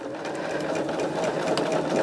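A sewing machine stitching quilt pieces runs steadily and close up, a continuous whirring hum with a rapid needle rhythm, without talk.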